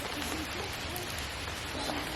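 Steady hiss of rain falling during a walk with a baby buggy in Knole Park, a continuous wash of pattering drops heard close around, with no talk.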